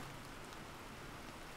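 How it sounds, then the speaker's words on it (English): Steady rain from the video game The Planet Crafter, a soft, even hiss of falling drops that runs without a break, fairly faint and with no voices over it. "It's raining again?"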